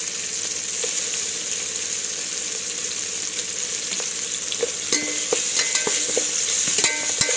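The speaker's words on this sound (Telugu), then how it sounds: "ఒక స్పూన్ అల్లం వెల్లుల్లి పేస్ట్ వేసుకుని మంచిగా ఒకసారి మళ్ళీ కలిసేటట్టు తిప్పండి" Ginger garlic paste frying in hot oil for bagara rice, a steady close sizzle with scraping stir strokes and spoon clinks growing busier toward the end, with no voices.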